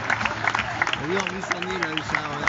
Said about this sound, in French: que ça redouble d'applaudissements